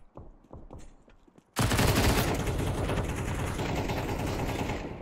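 Counter-Strike gunfire: a few separate sharp shots at first, then a sudden loud, sustained burst of automatic fire that continues steadily to the end, with no talking over it.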